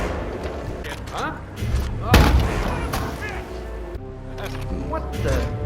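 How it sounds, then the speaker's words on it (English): Gunfire in the stealth video game Hitman 2 on the Isle of Sgail, a sharp loud shot cracking out mid-clip among thuds and game noise while a player talks over it. "Gunshot!"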